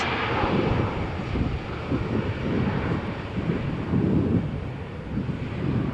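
EasyJet airliner bound for Berlin accelerating down Runway 13 at Malaga Airport on a stormy morning, a steady loud broadband engine roar with gusty wind buffeting throughout.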